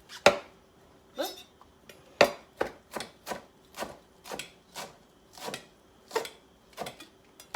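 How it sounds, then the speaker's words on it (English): A knife chops rolled-up fresh cilantro on a cutting board in a home kitchen, about a dozen crisp, evenly spaced chops ringing out close and clear with no talking. "Give it a little chop."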